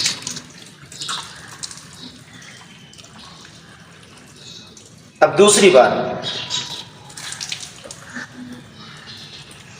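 A faucet runs steadily during wudu ablution washing, faint at first, then water splashes loudly onto hands for about a second midway before settling back to a quieter trickle. Someone speaks over it.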